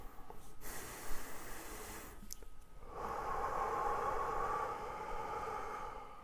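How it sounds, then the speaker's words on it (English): A single slow, deep breath drawn in and released, quiet and close, with a soft airy hiss swelling partway through and no talk. "take a deep breath right now"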